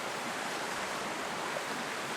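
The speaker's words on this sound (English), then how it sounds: "Lovely little waterfall there." Small waterfall on the mountain path to the Fairy Pools, a steady broadband rush of falling water close by, with no voices.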